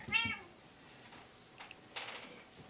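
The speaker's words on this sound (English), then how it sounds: "He is a quilting cat" Indoors beside a long-arm quilting setup, a cat gives a short, faint meow near the start, followed by quiet scattered rustles and small noises in a hushed room.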